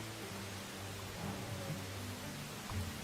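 Steady rain falls in the medieval survival game Medieval Dynasty, an even hiss that stays moderately loud throughout with a faint low hum beneath.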